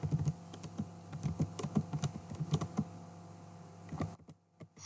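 Keys on a computer keyboard tapping out a command in an irregular run of light, close clicks, pausing briefly near the end.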